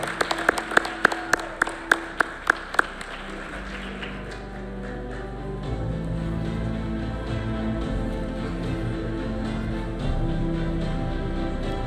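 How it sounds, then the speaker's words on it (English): A short burst of sharp, individual hand claps rings out near and loud at an educators awards ceremony, then fades into a steady, murmuring crowd noise with no more clapping. "Let's give one more round of applause."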